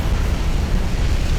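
Torpedo striking a warship in the naval game UA: Dreadnoughts, a loud, broad, sustained rumbling blast filling the whole moment with deep low-end roar and no voices.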